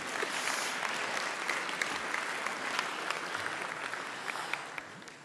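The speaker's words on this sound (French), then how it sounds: "On peut applaudir." Audience at a retail industry conference's opening plenary breaks into sustained applause, a continuous hiss of many hands clapping at once, fairly soft and distant, holding steady for the whole stretch.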